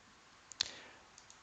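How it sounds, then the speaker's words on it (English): A single mouse click on a mail icon in Microsoft Teams, one sharp faint tick in a quiet room with a softer tap just before it and two tiny ticks after. "Again, by clicking the MacroView Mail icon."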